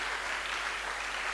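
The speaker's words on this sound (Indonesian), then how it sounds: "Tepuk tangan untuk Tuhan." Audience applause at a church youth retreat session, a steady, even wash of clapping from a crowd, fairly distant and moderately quiet, with no voices over it.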